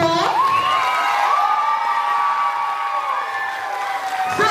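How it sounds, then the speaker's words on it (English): A school talent show audience of children cheers and shouts in a loud, sustained wash of high voices and whoops that fills the room, with applause mixed underneath. "Give yourselves a round of applause."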